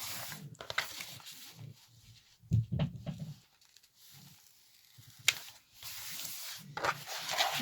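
Double-sided adhesive canvas has its edges peeled back by hand, producing intermittent close rubbing and tearing rasps in short bursts separated by quiet pauses.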